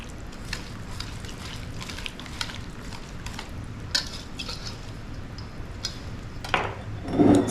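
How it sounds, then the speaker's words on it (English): Ground beef and cooked rice casserole mixture is stirred in a bowl, giving steady soft scraping and clinking of a utensil, with a few louder knocks near the end. "And we're going to mix that up."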